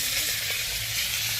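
Fish frying in a pan, a dense steady sizzle of hot oil that holds without a break, close and loud with no voices.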